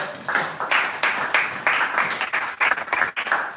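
A church congregation claps together in a steady rhythmic beat, loud and close, with voices calling out beneath the clapping during a fasting and prayer service.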